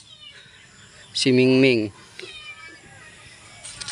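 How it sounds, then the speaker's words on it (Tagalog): A cat gives one loud, close, drawn-out meow lasting under a second outdoors, with a person speaking briefly around it. "Ayun yung pusa, oh."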